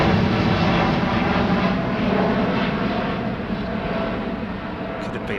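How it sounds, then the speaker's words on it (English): A jumbo jet departing Heathrow Airport roars steadily and loudly for the whole span, a broad sustained engine rumble that slowly eases off toward the end. "Could have been a jumbo jet"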